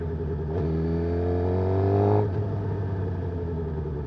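A 2022 Suzuki GSX-R750 motorcycle engine revs up with a rising, throaty, loud exhaust note, climbing in pitch before easing back to a steady rumble, heard while riding.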